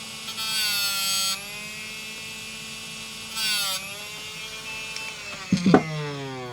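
A Lanrui M107 six-speed portable electric grinding machine sharpening and sanding tweezer tips: a steady high motor whine that rises in pitch in two separate bursts, then a short rougher grinding scrape near the end, close and alone.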